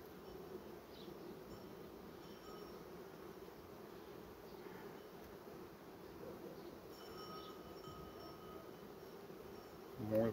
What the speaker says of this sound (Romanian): Multă, multă albinuță are acest nucleu și miere.